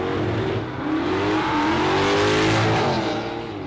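A drag racing car accelerates hard down the strip at Warwick Dragway during a road trip drag challenge, its loud, continuous engine roar climbing in pitch and swelling as it pulls away, with no voices.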